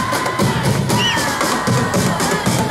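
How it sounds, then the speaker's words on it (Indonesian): A large outdoor crowd at a takbir keliling night parade in Semanu cheers and shouts loudly and continuously, with children's voices rising above the roar for the full stretch. "Kita beri aplaus yang meriah untuk Masjid Fathur Rahim Semanu Utara."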